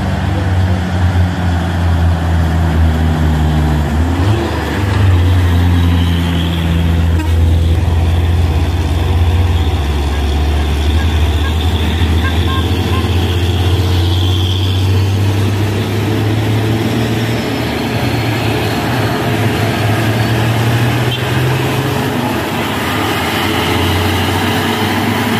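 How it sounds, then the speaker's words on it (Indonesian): Fuso truck labouring uphill, a steady low engine drone with rising and falling pitch that holds loud and close for the whole stretch, with no voices. "Ada truk Fuso."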